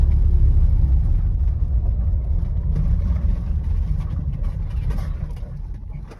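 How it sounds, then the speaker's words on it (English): A truck or side-by-side speeding along an Oregon coast forest road, a loud low rumbling drive-by that slowly fades as it moves away. "got a truck hauling ass down here, or side by side"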